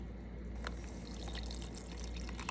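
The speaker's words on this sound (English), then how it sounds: "And this is super warm water so that it can actually kick-start it." Super-warm water pours steadily into a sourdough starter during feeding, a soft continuous trickle with faint splashes, alone and fairly quiet throughout.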